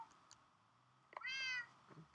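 A cat meows once, a clear rising-and-falling cry of about half a second, over a quiet indoor background with faint clicks before and after.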